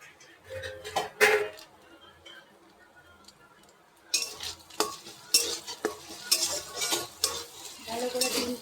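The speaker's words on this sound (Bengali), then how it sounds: "ভালো করে ডিমটা ভেজে নিই।" An egg frying in a home kitchen pan with salt added, heard as a soft sizzle with intermittent scraping and clinks of a utensil, growing busier and louder midway through.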